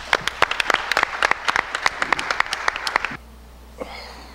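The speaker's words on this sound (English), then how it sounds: "Please give Fred Bryant a round of applause." An audience at a community gathering claps for about three seconds, individual claps distinct and close, then cuts off into quiet room tone with a faint stray sound near the end.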